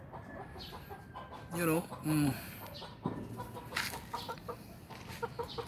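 Breeder roosters and chickens at a Filipino backyard coop, with a couple of loud clucking bursts and scattered fowl calls close by, while someone talks intermittently over them.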